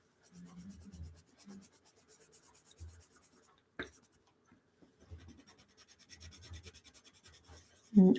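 Coloured pencil strokes on paper for a realistic dog portrait, soft close scratchy rubbing in short bursts with pauses, quiet and near, no talk.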